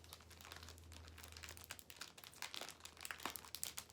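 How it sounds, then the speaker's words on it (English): Crinkly plastic packaging around a holiday hot pad set being torn open, a steady stream of soft crackling and crumpling with sharper rips toward the end, close and quiet with no talk. "I'm already ripping the plastic."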